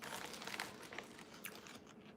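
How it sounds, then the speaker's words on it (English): Crunchy puffed sea salt and vinegar crisps being bitten and chewed up close, a steady run of crisp crackling crunches at low volume with no talking. "crisps, and they have like sea salt vinegar. And they're puffed, very crunchy."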